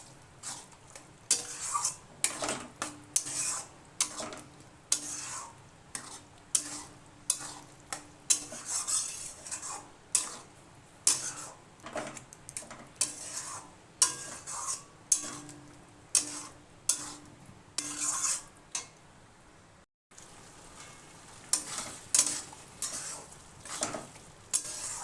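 Boiled spinach paste is stirred into chickpeas in a pan, a long run of regular scraping and clattering spoon strokes over a low sizzle, close and steady, with a brief pause near the end and no speech.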